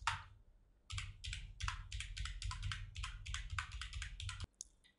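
Quick keystrokes on a computer keyboard as a web address is typed, a close, steady patter of a dozen or so clicks in short runs, quiet and with no talking.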